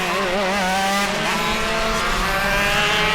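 Shifter karts in a Shifter Masters race at the 2019 TCKC Shootout scream past at high revs, a loud, continuous engine wail with shifting pitch as one kart makes an emphatic pass close by.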